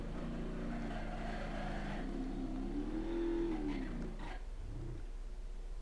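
A car engine in the BeamNG Drive driving game drones steadily and loudly, its pitch climbing into a rev near the middle before dropping away, with no talking over it.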